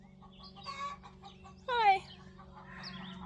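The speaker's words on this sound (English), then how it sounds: "This is Barn Chicken. She came with the place. She's our resident chicken." A resident barn hen clucks in short bursts nearby, with a louder, higher squawking cluck near the middle, over a low steady background hum, and a person briefly speaks.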